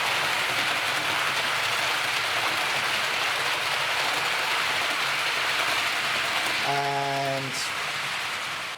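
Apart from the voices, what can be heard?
model train with eight carriages running on track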